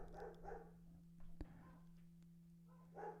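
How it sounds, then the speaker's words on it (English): A dog barks a few times nearby, sharp single yaps over a steady electrical hum, with another dog apparently out on the street beyond. "my dog starts barking right now"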